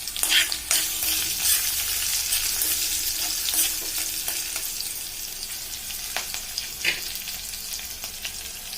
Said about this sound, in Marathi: आता याला एक चांगली फोडणी बसली आहे, थोडंसं याला मिक्स करून घेऊयात व्यवस्थित